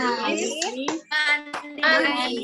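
Children in a classroom chant the PPK clapping rhythm together, with a couple of crisp handclaps cutting through the sung syllables, close and lively.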